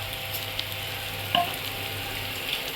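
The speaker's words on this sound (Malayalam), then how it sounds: "ഇതിലേക്ക് നമ്മൾ വെളിച്ചെണ്ണയും കുറച്ച് നെയ്യും ഇട്ടിട്ടാണ് നമ്മൾ ഇത് വറുക്കുന്നത്." Food frying in coconut oil and ghee in a pan for mutton biryani, a steady soft sizzle with a faint low hum and one brief clink partway through, no talking.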